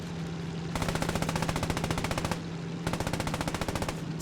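Machine gun fire in the video game Post Scriptum during a realism event: two long, loud, rapid bursts with a brief pause between them, and no talking.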